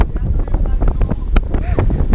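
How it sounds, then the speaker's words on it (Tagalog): Heavy, gusting wind on a day tour at Dingalan batters the microphone in rough low-frequency bursts, with faint background sounds under the roar. "Sobrang lakas ang hangin, tingnan nyo."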